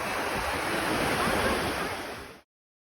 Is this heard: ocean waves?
yes